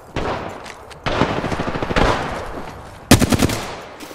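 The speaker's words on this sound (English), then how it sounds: "Getting shot at." Loud automatic gunfire in an Apex Legends match, several sustained bursts in a row with brief gaps and a sharp final volley, close and dominant with no talk over it.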